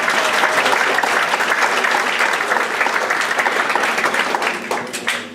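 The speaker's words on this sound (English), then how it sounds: "Please give Greg a nice round of applause" An audience at a Madison Idol singing competition applauds Greg, dense sustained clapping that fills the room at a steady level and thins slightly near the end.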